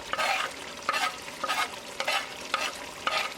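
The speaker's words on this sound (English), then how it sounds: "After adding the fresh cilantro on high gas, mix it well." A pork loin back ribs curry with fresh cilantro is stirred in a pan over high gas, giving rhythmic scraping strokes about every half second over a continuous sizzle.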